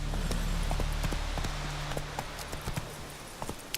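Horse hooves clip-clop in The Witcher 3 video game, a steady walking rhythm of soft knocks over a low rumbling background that fades after the first couple of seconds.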